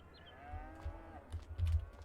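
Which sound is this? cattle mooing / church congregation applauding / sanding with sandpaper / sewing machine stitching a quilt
cattle mooing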